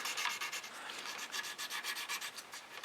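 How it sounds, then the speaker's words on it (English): Filler is rubbed off a Harrier T.12 model kit in a steady rhythm of quick, hissy abrasive strokes, close and fairly quiet, with no voices. "rub the excess off"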